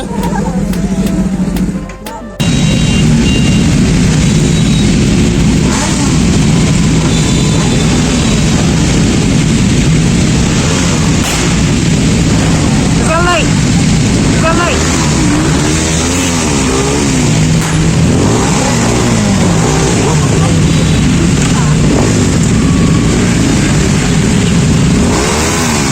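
A superbike engine revs hard up close, with loud rising and falling surges over a rumbling idle, while people talk nearby.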